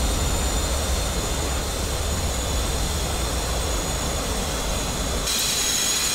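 A Boeing 737 in the Prepar3D flight simulator lands with a steady jet engine roar, a broad constant whine and rumble that holds level throughout, brightening slightly near the end, with no talk.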